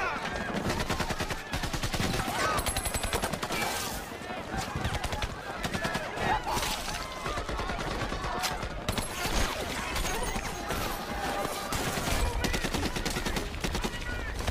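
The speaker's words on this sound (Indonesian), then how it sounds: "Hingga akhirnya kontak senjata antara kedua pihak pun dimulai." Gunfire in a sniper action film firefight between marines and terrorists, dense rapid bursts of automatic shots and single cracks repeating throughout, with talk mixed in underneath.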